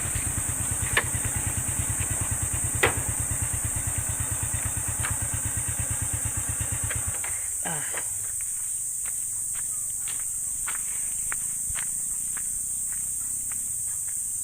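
A motorcycle engine idles with a steady low throb, then cuts off, leaving quieter ambient noise and scattered clicks.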